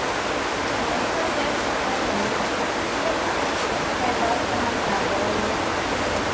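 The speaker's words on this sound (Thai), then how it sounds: "ที่ผมกินท่ามกลางน้ำตกเลยนะครับน้ำตกจริงๆเลยนะ" Waterfall rushing beside a roadside noodle stall in Mae Kampong village near Chiang Mai, a steady broadband roar of falling water that fills the whole scene without pause.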